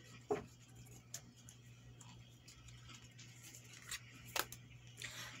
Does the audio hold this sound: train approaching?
no